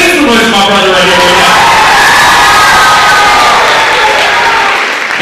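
A large crowd at a suicide prevention community event in Willmar cheers loudly with applause, shouts and whoops, a dense roar of noise that stays loud before easing slightly at the end.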